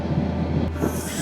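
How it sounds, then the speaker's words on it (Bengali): Commuter train curving into Kamalapur railway station, a steady near rumble of wheels on rail with a low hum and a faint squeal, continuous throughout. "কত সুন্দর একটা কার্ভ নিয়ে আমরা প্রবেশ করলাম কমলাপুর রেল স্টেশনে"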